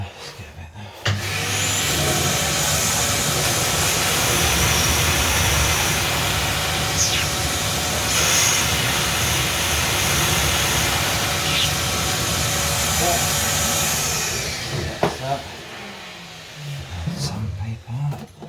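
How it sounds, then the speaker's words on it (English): Sandpaper rubs against a pipe in a toilet plumbing repair, a loud, close, continuous abrasive hiss lasting most of the clip before breaking into short scrapes near the end. "Sandpaper."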